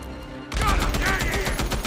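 Sustained gunfire aimed at a fleeing motorbike in Days Gone, a loud, dense burst of rapid shots that starts abruptly and keeps going to the end.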